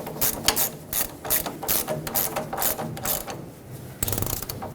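A hand ratchet rapidly clicks while tightening the drag link mounting nut on a 2011–2016 Ford F-350, coming as a quick run of close, crisp metallic ticks in short bursts with a brief pause before the final strokes.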